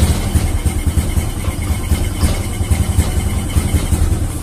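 A Honda Supra 125 carburetor motorcycle engine sits running close by in a steady, loud, throbbing idle with rhythmic pulses, and no one speaks.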